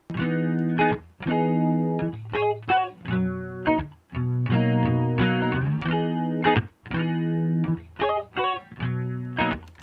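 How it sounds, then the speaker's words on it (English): A clean electric guitar recording processed with a distortion plugin plays chords and riffs with short pauses between phrases, heavily distorted, thick and textured, with no voices. "took a clean electric guitar recording and made it sound really textured"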